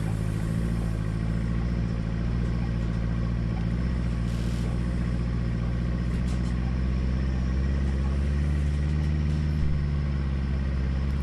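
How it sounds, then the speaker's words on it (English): A 4WD engine labours at a steady throttle in low range while climbing a loose, rocky mountain track, giving a constant low rumble with light clattering over it and no talk. "And your car will do the work and climb up quite nicely."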